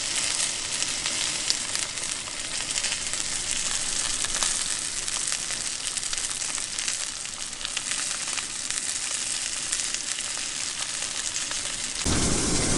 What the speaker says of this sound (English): We're getting a nice sear on that thing. It's looking good. And the steak's looking mighty fine.